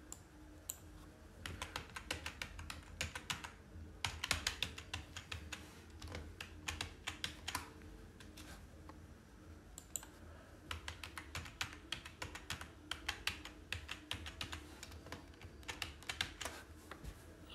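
Close, crisp keystrokes on a computer keyboard as a password is typed, coming in rapid bursts separated by short pauses, with no talking.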